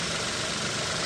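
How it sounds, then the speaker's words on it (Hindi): Engine of a Maruti Alto K10 VXI with an automatic gearbox, just repaired after overheating, running steadily close by, a dense, continuous mechanical drone with no talk. "engine start"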